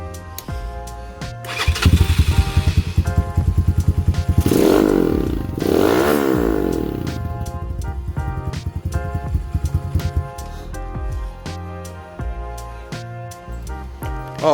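A Lifan KP Mini 150 motorcycle engine with an undermount exhaust sputters to life, revs up twice with rising and falling exhaust roar, then settles into a steady, loud, popping idle.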